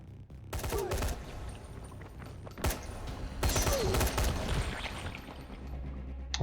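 Rapid gunfire in the video game Dying Light, several loud sharp bursts and fusillades in quick succession with mechanical clatter between them, heard up close with no talking.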